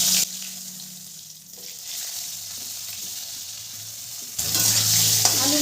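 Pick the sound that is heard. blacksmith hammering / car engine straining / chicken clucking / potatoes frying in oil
potatoes frying in oil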